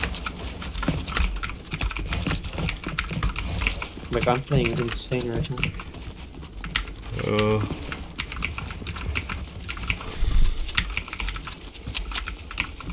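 Rapid, forceful clacking on a computer keyboard during gameplay, bursts of keystrokes running continuously while a voice talks over them.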